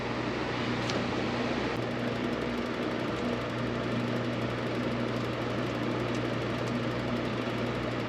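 A heat gun blows steadily while shrinking heat shrink tubing, a constant close whooshing fan drone with a faint electrical hum and occasional small clicks.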